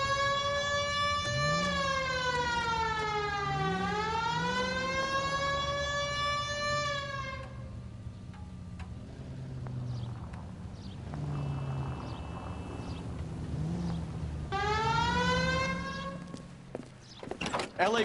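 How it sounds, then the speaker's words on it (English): A wailing police car siren in the video game L.A. Noire, rising and falling loudly for several seconds, dropping away, then returning near the end, with engine noise and a brief voice under it. "Hit the siren."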